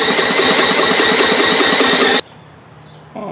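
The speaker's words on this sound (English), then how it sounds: "I'm just going to take a drill here with a 15/16 socket and spin the engine over" A power drill fitted with a 15/16 socket cranks over a Briggs & Stratton engine that has no compression, giving a loud, steady whirring rattle for about two seconds before stopping abruptly, followed by a quieter pause and a fainter restart.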